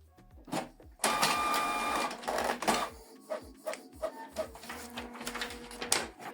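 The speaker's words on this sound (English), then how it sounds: "Then you select print test page." A Canon TR4755i inkjet printer runs off a test page, with a mechanical whir and a burst of feeding noise, then a series of rhythmic clicks and clunks of the print head shuttling, fairly quiet and close.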